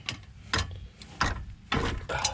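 A hand ratchet turning a short socket on a wobble extension while working near an O2 sensor, giving four separate bursts of quick clicking, each about a third of a second long, close by.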